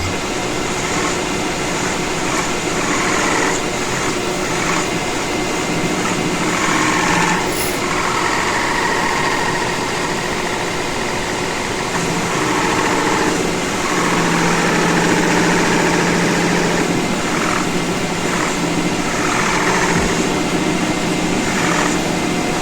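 A metal lathe running through a turning operation, a loud continuous mechanical whine and hum with a steady drone and faint scraping variations as the cut proceeds.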